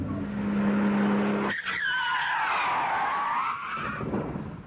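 An Aston Martin DB7, a works-prepared car, skids through a corner with a loud wailing tire squeal that rises and bends in pitch over a few seconds after a brief engine note.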